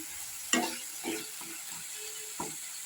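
Spice paste for young jackfruit curry fries quietly in a pan under a soft, steady hiss, broken by a few close spatula knocks and scrapes.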